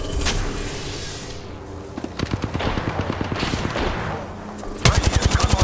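Rapid automatic gunfire in a video game: loud, close bursts of evenly spaced shots, a whooshing sweep early on, then a fast rattling volley near the end.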